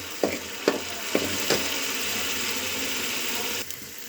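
Masala of onion and garlic sizzles in oil with a soft steady crackle, broken by four quick scraping stir strokes early on and one more near the end, close and moderately quiet.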